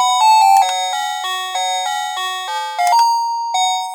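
An electronic doorbell chime plays a bright, tinkling multi-note melody, its sustained bell tones stepping up and down over about four seconds, loud and close with no talk.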